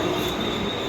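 A suburban train on the platform at Thane station gives off a continuous metallic rumble with wheel squeal, close and steady for a brief moment.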